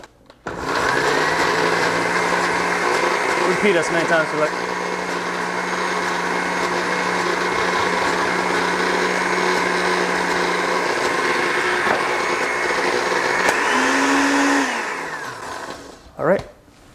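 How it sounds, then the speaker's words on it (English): A cheap blender whirs through blueberry barbecue sauce, a loud steady motor drone that runs for about thirteen seconds with a pitch shift near the end before cutting off; a voice speaks briefly over it. "Put this back in blender because I want it a little more smoother."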